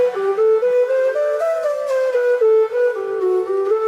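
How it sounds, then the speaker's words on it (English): Breathy flute-like melody, a violin line turned into a shakuhachi timbre by DDSP, with smooth sustained pitched notes and slight glides, close and clear, without any talking. "it's been translated to like a shakuhachi flute sound"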